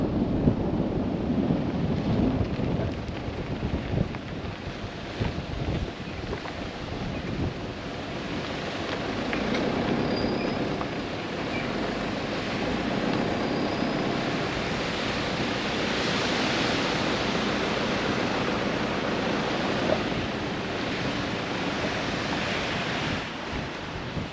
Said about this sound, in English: Here's the main drag waterfall.